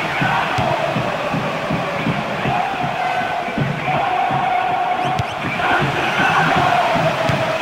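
Stadium crowd roaring steadily in the football video game Winning Eleven 10 on PS2, a dense, loud wall of cheering that swells slightly toward the end, with no commentary over it.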